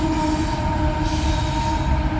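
A CSX coal train hauled by ET44 locomotives rolls slowly past at close range, a steady loud rumble of wheels and cars with a sustained high metallic wheel squeal running throughout.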